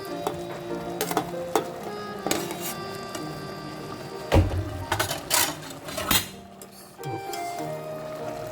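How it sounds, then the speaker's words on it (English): Eggplant goes into a Filipino-style ratatouille sizzling in a pan: a close, continuous frying hiss broken by several sharp clinks and knocks of a utensil against the pan and a few louder bursts of sizzle. "Now we're adding the eggplant."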